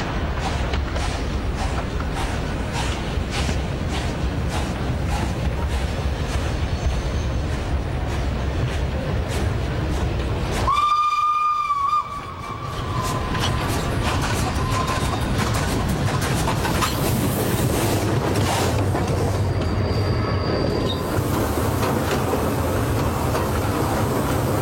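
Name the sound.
steam locomotive 231 K8 Pacific climbing a grade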